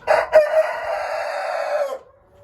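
A Marans rooster crows once, loud and close, a long drawn-out call lasting about two seconds before cutting off.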